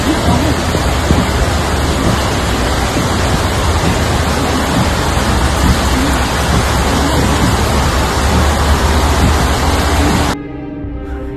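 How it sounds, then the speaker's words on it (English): Heavy rain pours onto a flooded main highway in Georgia, a dense, steady roar of water that stays loud and unbroken for about ten seconds before cutting abruptly to a quieter hiss. "The main highway in Georgia is affected by heavy rain, rendering the road completely impassable."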